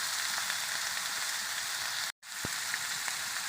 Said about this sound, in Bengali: এবার আমি কেটে রাখা আলু দিয়ে দিচ্ছি